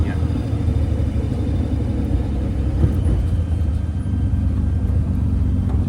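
A 1962 Austin Healey 3000 being driven, its engine a steady, close low rumble that carries unbroken with road noise throughout.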